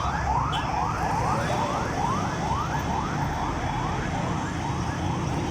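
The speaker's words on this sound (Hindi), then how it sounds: "ये गाड़ियाँ अब आ रही हैं, फायर ब्रिगेड की भी, एम्बुलेंसेस भी।" Loud wailing fire engine and ambulance sirens sweep up and down repeatedly, close and continuous, overlapping one another with traffic rumble underneath, after a boiler blast at a military hospital in Rawalpindi.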